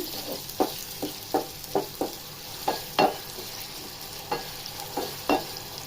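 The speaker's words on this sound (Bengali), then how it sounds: "আমি এখানে পেঁয়াজ কুচি, রসুন কুচি এবং কাঁচামরিচ এগুলো দিয়ে ভালোভাবে ভেজে নিচ্ছি।" Chopped onion, garlic and green chili fry in a pan with a low sizzle, punctuated by a regular series of spoon scrapes and taps as the mixture is stirred, close and clear.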